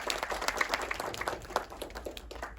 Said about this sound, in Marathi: स्वप्नील जोशी यांच्यासाठी जोरदार टाळ्या झाल्या पाहिजेत